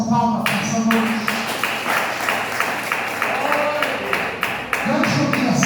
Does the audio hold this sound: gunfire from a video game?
no